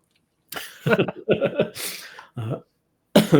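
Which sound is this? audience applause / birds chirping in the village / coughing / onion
coughing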